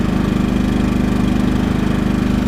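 A Champion 2000 inverter generator runs close by after a remote start with automatic choke, following six months unused: a steady, even engine chug with a rapid regular pulse throughout.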